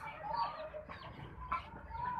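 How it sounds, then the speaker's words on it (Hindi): A large rooster, shown off among other birds, gives clucking calls close by amid steady broadband background noise, with no voices heard over it. "कितना बड़ा माशाल्लाह माशाल्लाह मुर्गा है ये"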